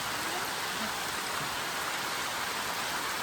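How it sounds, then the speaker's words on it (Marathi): Rain pours down steadily over a traditional farm in the Konkan region, a dense continuous hiss of falling water with no breaks and no voices. "त्यामुळे पाऊस इलो."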